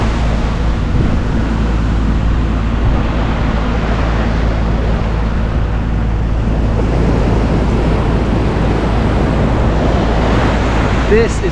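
Ocean waves wash steadily onto a plastic-strewn beach in Bali, a loud, continuous rush of surf with wind across the microphone, rolling in wave after wave with no break.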